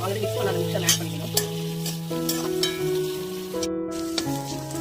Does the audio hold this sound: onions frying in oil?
yes